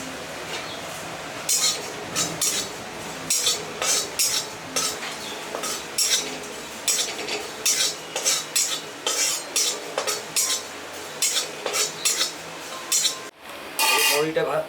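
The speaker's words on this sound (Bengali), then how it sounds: "কটা মৌরি ভেজে নিচ্ছি" A few fennel seeds are dry-roasted in a dry kadai, stirred with a metal spoon that scrapes and clinks against the pan in quick rhythmic bursts. The scraping is close and repeated, with quiet pauses between the strokes.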